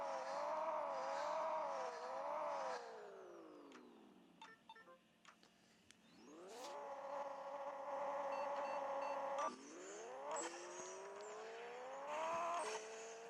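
A race car engine in the video game Pixel Car Racing revs hard through repeated rising sweeps, each broken by a sharp gear shift, with a brief drop and quieter lull midway before it climbs again.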